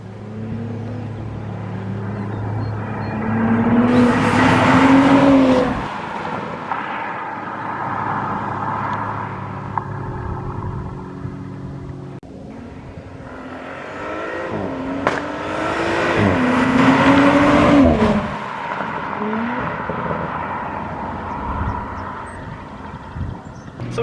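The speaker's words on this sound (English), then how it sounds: "we're going to do some drive-bys so you guys can hear the exhaust better" Car exhaust during roadside drive-bys, two passes where the engine note swells loudly as the car approaches and revs past, then fades, with a quieter idle-like stretch and faint wind between them.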